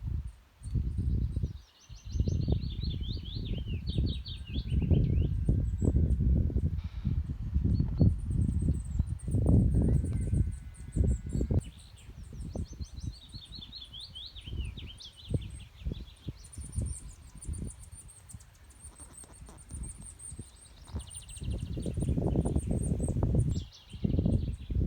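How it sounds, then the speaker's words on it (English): Many different birds sing around a farm, with bright chirps and trills scattered over the whole stretch, while louder rustling and thumping handling noises sit close in the foreground. "The amount of different birds that we can hear just now is absolutely phenomenal."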